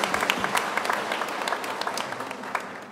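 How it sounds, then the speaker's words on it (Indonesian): A church congregation at a first Mass at Santa Anna church claps for Romo Linus, an even, continuous patter of many hands with a few crisp accents standing out, steady and fairly loud for the whole stretch. "Boleh tepuk tangan buat Romo Linus."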